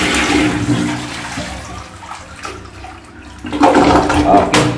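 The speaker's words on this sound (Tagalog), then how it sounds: "Toilet flush." A toilet flushes with a loud rushing gush of water that fades, then surges again near the end, close by.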